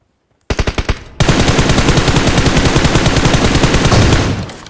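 Automatic rifle fire in the mobile battle royale game PUBG Mobile: a short burst of distinct shots, a brief pause, then a long, loud, rapid sustained volley with no talk.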